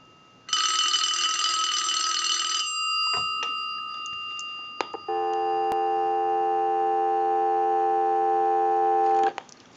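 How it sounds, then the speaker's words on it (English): A telephone line test setup with a bell box: one ring burst, a few clicks, then a steady, close, continuous dial tone lasting several seconds alone. "we'll give you some dial tone"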